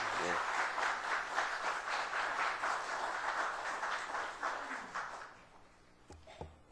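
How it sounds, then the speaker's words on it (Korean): At a Saturday dawn church service, the congregation claps to welcome a young preacher as he comes forward. The steady, moderate applause runs for about five seconds and then dies away into near quiet with a few faint noises. "앞으로 나오실 때 우리 한번 박수로 환영할까요?"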